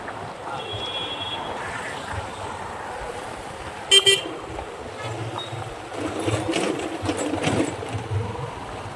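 Road noise from riding a motorbike through traffic, with a steady engine hum, a brief horn toot, and louder passing vehicles toward the end.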